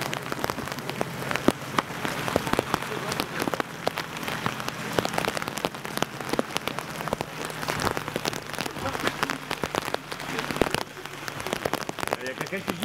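Steady rain falls during an outdoor film shoot, dense and constant patter on surfaces with scattered sharper drops, continuous and fairly close throughout.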